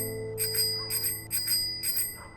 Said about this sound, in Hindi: तभी मेरे कान में जोर जोर से साइकिल की घंटी बजने लगी।